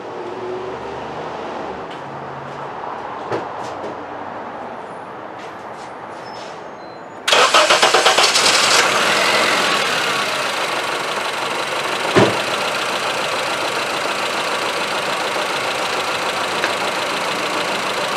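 A Honda Civic engine on a misfire test, with a cylinder deliberately disabled, starts abruptly partway through after a quieter stretch, then settles into a loud, steady, slightly uneven idle close by with occasional sharp knocks.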